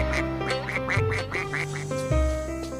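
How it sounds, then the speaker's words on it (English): A duck quacks repeatedly in a told children's story about cowboys, a series of short nasal quacks over a sustained musical backing, fairly close and clear, with no talking over it. "lifted the duck up and it gave a feeble quack"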